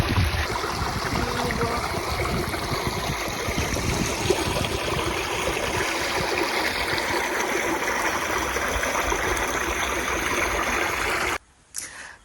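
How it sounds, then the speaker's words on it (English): Flowing water on the River Nile near Kisii, a steady broadband rush and trickle that holds loud and unbroken for about eleven seconds, then drops off abruptly near the end. "Now we are on River Nile."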